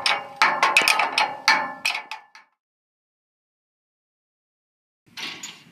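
Nuts are tightened onto bolts of a steel building frame during erection of a Perka building. A close, loud run of rapid ratcheting clicks lasts about two seconds, then silence, then a brief second burst.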